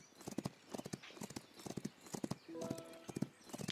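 Rhythmic galloping hoofbeats from a racehorse in the Rival Stars Horse Racing video game, quick repeated clip-clop thuds up close, with a brief neigh-like tonal call partway through.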